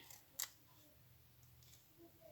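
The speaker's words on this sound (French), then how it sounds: "Je prends mes ciseaux" A single sharp snip of scissors cutting tape sounds close by, followed by a fainter click, over a quiet, low background hum.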